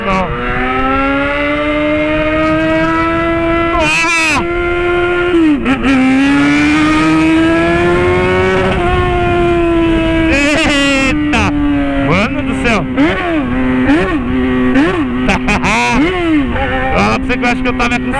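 A Jaguar XJ6 engine roars steadily as the car drives, its rich tone rising and falling with the revs, heard from close inside the car while people talk over it.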